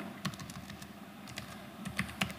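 Close, quiet computer keyboard typing in a few short bursts of light key clicks with small pauses, entering text into a spreadsheet cell.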